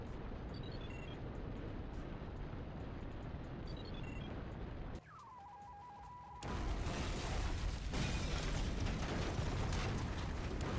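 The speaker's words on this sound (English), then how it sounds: "we very clearly have an explosion go off where we were standing" Explosion in the main power room of the PS1 game Syphon Filter, a loud sustained rumbling blast that floods the sound after a brief quieter stretch with a falling tone, then holds steady and dense to the end.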